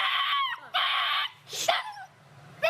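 A frightened small dog stuck in water and trapped in a piece of foam whimpers and yelps, with several high, wavering whines and sharp cries in short bursts, close by.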